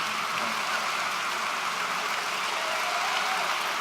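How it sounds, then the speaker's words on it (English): A large audience at a live talk event in Vancouver claps loudly and continuously for the speakers, a dense, even wash of applause filling the whole moment. "let's give a huge round of applause for our speakers tonight."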